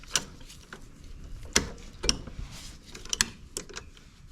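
A ratchet loosens 14mm bolts on a Honda Goldwing front brake caliper, giving close, irregular bursts of sharp metallic clicks with short pauses between strokes and no talking.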